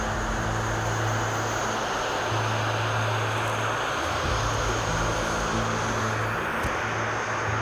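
A propeller aircraft engine idles with a steady, loud droning rumble and a pulsing low throb that rises and falls in strength, accompanied by a constant high hiss throughout.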